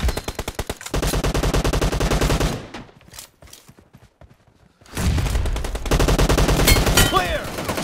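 Rapid bursts of gunfire in the video game PUBG, loud and close, come in sustained volleys with a short quieter gap of scattered shots in the middle.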